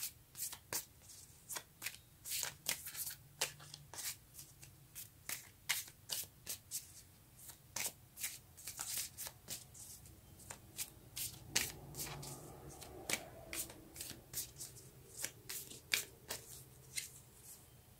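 Tarot cards shuffled by hand in a steady run of crisp riffling bursts, close and clear, with no talk over them.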